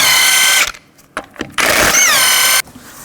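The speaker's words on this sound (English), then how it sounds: "take off the lug nuts, use the same 22mm socket" A power tool spins 22mm lug nuts off the front wheel of a 2007 Chevy Silverado 1500 Classic, with two loud, high-pitched whirring bursts separated by a pause and brief clicks and clatter.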